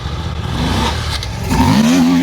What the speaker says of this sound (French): sa superbe KTM en train de réaliser une très belle performance